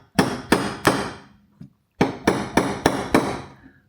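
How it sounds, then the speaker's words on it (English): A hammer strikes a center punch into a metal MOLLE plate for a Land Rover Freelander 2, ringing sharp metallic taps in two close groups of three and five with a short pause between. "let's get the center punch"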